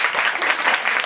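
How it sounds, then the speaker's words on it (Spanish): An audience claps for a singer at a book-and-music event, a dense, even burst of applause filling the room, loud and continuous. "Un fortísimo aplauso para ella."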